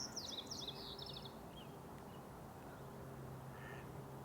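Geese with goslings in a marsh give a short burst of honking calls at the start, then fainter calls over steady outdoor background noise.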